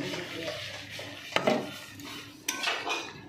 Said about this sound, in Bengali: দিয়ে ভালো করে একটু নাড়াচাড়া করে নিচ্ছি